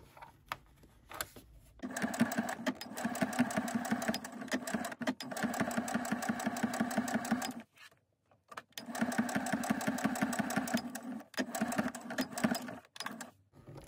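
A domestic sewing machine stitching a fabric case for a glasses cleaning cloth, running in two long steady bursts of fast rhythmic needle strokes separated by short pauses, with brief stop-start whirs at the ends.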